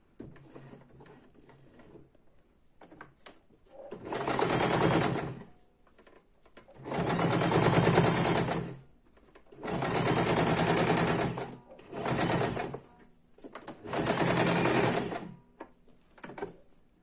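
A sewing machine stitches patchwork quilt blocks in five loud, steady runs of rapid mechanical whirring, each lasting one to two seconds. Quiet pauses separate the runs, and light handling noise fills the gaps.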